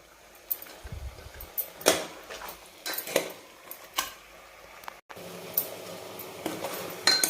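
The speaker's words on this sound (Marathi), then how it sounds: "चांगलं 5 मिनिट आपण याला हलवून घेऊ, छान मटणचा कलर आपला बदलेपर्यंत" Mutton pieces are stirred in a pot for a masala mutton curry, with a metal spoon scraping and clinking against the pot in irregular strokes over a faint background hum.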